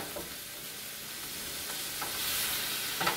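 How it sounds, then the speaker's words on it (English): Ground beef browning in a pan for taco salad, a soft continuous sizzle with occasional scrapes from a utensil stirring it, quiet and close. "the ground beef browning, okay? So let me turn this up a notch and just do a little stir here."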